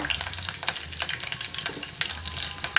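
Curry leaves dropped into hot oil with mustard seeds and fenugreek in a clay pot, a dense crackling sizzle with rapid pops and spits, close and loud throughout a few seconds.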